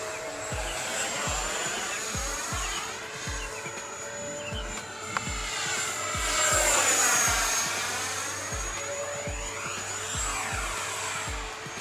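FMS F-16 64mm electric ducted fan RC model jet flying outdoors, a steady whining fan rush that swells as it passes closer, over a rhythmic low thumping, with no talk.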